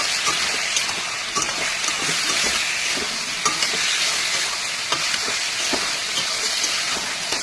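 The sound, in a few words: spice paste with ginger, garlic, chili, cumin frying and stirring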